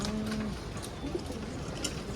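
A caught feather-footed pigeon coos close by, a low steady throaty call over a dense background with no talk.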